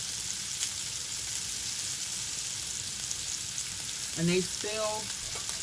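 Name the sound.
lamb chops frying and browning in a pan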